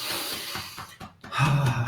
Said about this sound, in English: take some nice big breaths into the whole thoracic region